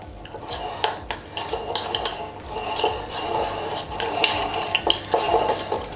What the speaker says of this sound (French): Et on va mélanger.